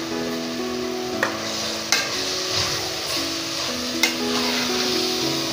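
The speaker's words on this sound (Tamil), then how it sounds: "நல்லா கலந்துக்கோங்க" Chopped banana flower sizzling as it is stirred into frying oil and biryani masala in a pan, with a continuous hiss broken by several sharp scraping strokes of a spatula.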